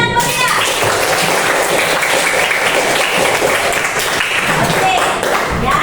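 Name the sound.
classroom applause for students presenting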